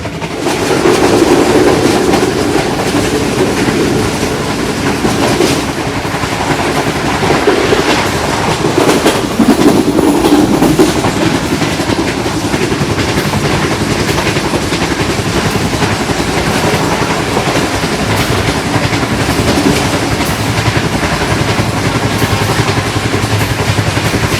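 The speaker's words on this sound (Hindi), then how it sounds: "GU40 9052 फुल दबंग किस्म की स्पीड के साथ आगे बढ़ रहा है लाहौर की तरफ" A GU40 diesel locomotive, number 9052, hauls the Tezgam Express at around 115 km/h toward Lahore, a loud continuous roar of engine and rushing carriages with rhythmic wheel clatter over rail joints, heard close from on board.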